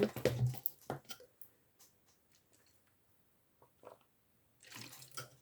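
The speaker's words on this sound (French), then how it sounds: "Je prends de l'eau." A glass filled with water and then drunk: a short burst of pouring at the start, then a few soft, scattered sips and small clinks, and a brief louder rustle of movement near the end, all faint and close.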